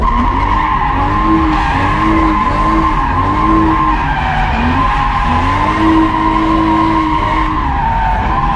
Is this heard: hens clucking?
no